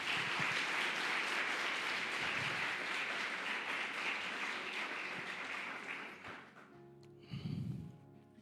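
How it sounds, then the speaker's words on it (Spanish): Congregation applause at a Christian church service, a dense sustained wash of clapping that fades after about six seconds, leaving scattered claps and a few low thumps. "Denle un aplauso a Él."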